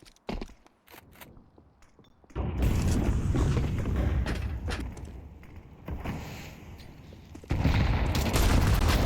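Grenades bursting during a Counter-Strike esports match on the Vertigo map, a loud sustained barrage of booms and gunfire-like blasts after a quieter stretch of scattered clicks and footsteps, swelling again near the end.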